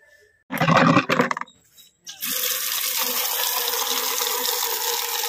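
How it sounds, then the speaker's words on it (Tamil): Water gushes loudly from a pipe for someone bathing, a short burst first, then a pause, then a steady, continuous stream pouring close by. "பைப்பிலே போய் வந்து நம்ம குளிச்சுட்டு வந்துடலாம்"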